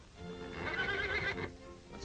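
A horse on a ranch whinnies excitedly and tosses against its bit, the neigh rising and wavering loudly for about a second over steady clip-clop and stamping, with no voices.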